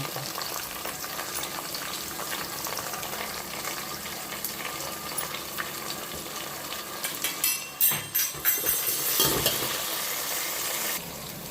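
Onions frying in hot oil for mutton biryani, a steady close sizzle with a few stirring scrapes and bubbling bursts near the end, no talk.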